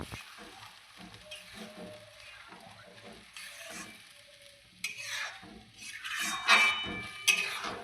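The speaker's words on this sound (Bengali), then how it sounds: "ভালো করে নেড়ে নেওয়া হচ্ছে।" Bombay duck fish mash being stirred in a hot frying pan, a spatula scraping and tossing it through a steady low sizzle that swells into louder, clattering strokes near the end.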